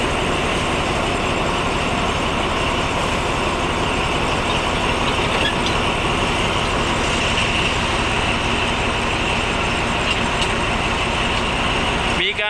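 A State Railway of Thailand diesel locomotive, number 4409, runs with a steady, loud engine rumble and drone that holds unbroken for the whole stretch, with no voices.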